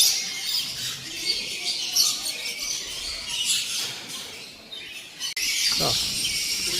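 Harsh parrot squawks ring out repeatedly as the parrots bathe, over a constant high chirring of birds and insects, fairly close and loud.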